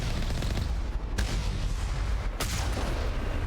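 Rocket fire from an enemy in the game Mass Effect 1, a dense rumbling battle din with two sharp booming blasts standing out, loud and close, with no talk over it.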